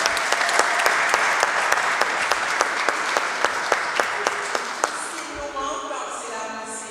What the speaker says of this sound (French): Je vous demande avec moi de les applaudir